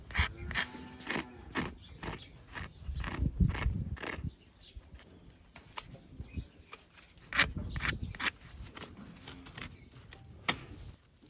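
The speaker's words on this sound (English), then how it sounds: "You can hear by the sound of this hoof how hard and dry it is." Hard, dry hoof of a lame three-legged cow being scraped and picked clean, giving close, dry clicking and ratcheting scrapes in uneven bursts with brief pauses, no talk over it.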